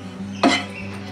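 A spoon stirs grated coconut as it dry-roasts in a pan over medium heat, giving one brief scraping clink against the pan over a steady low background hum.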